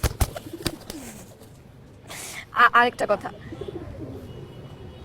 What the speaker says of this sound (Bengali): ওরা জোড়া কবুতর